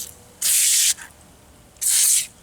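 Two bursts of hissing spray of cleaner from a pump bottle, each about half a second long, close and loud, separated by a short pause.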